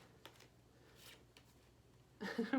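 Tarot cards being shuffled by hand: a few soft, papery riffling bursts that grow into a louder, denser flurry at the end, with no talking.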